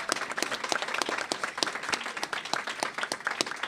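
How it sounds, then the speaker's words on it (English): A luncheon audience claps, with dense, brisk, individually distinct hand claps at moderate distance, sustained evenly with no voices. "give a lot of round of applause to all those people who worked and served to help put this together"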